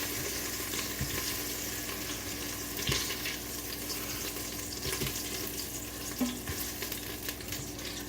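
Meat browning in a quick cooker for jambalaya, a continuous soft sizzle and crackle with occasional sharper pops and utensil knocks, close and steady throughout.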